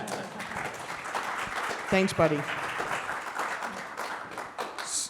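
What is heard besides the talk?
applause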